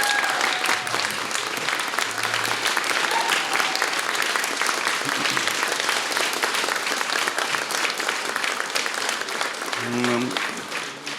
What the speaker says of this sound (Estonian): Aga ma arvan, et teeks ühe aplausi ka Big Bandile, kes on suurepärane